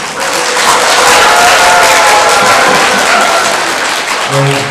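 A lecture audience at a talk on Korean folk painting and lacquerware bursts into loud, continuous applause, dense and even throughout, with a speaking voice surfacing briefly near the close.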